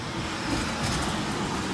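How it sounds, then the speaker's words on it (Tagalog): Steady street traffic with many vehicles passing on a busy road, a continuous close rumble of engines and tyres with no talk over it. "So, ang daming sasakyan"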